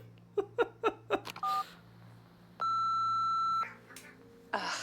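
Phone dialing tones in the video game Nobody Wants to Die: a quick run of keypad beeps, then a sustained electronic ringing tone and a short final blip, clear and close with no speech.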